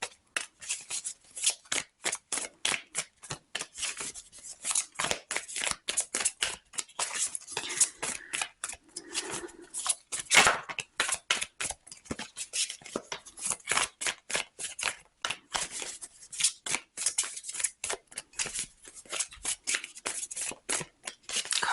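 Tarot cards shuffled by hand in a long, steady run of crisp riffling flicks and slaps, close and fairly soft, with no talking.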